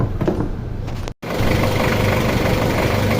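A Nissan Frontier D22 engine idles steadily and smoothly after its injector nozzle tips were replaced, a continuous low hum that drops out for a brief instant before resuming at the same level.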